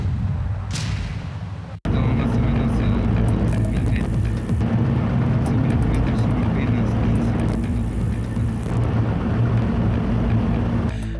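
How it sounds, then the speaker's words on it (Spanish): A private jet flies over Peru, its engines a loud, steady roar that begins abruptly after a short quieter opening and holds unbroken through the rest of the clip. "Alberto Fujimori sobrevuela en su jet privado el cielo peruano."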